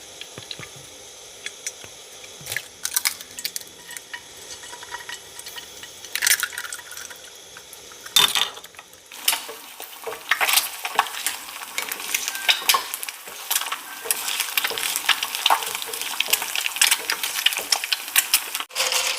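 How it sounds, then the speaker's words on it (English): Chilaquiles sauce simmering gently in a pan, a bubbling, crackling sizzle that starts sparse and grows denser and louder, with a few knocks of a utensil against the pan. "I'm gonna let this simmer gently for about 5 minutes,"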